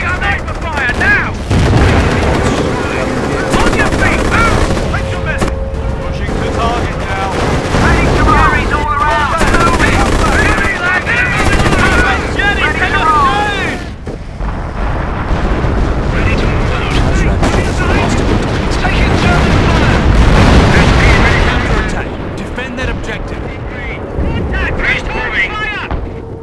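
A creeping artillery barrage and gunfire rumble and crack continuously in the World War II strategy game Company of Heroes, set in the city of Caen, with dense explosions and rattling shots while voices call out over the din.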